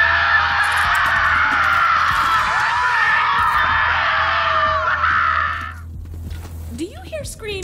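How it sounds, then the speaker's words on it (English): Loud, sustained screaming from the Borderlands 3 video game rings out for several seconds before cutting off, followed by quieter scattered game sounds. "Do you hear screaming, or am I having another one of my episodes?"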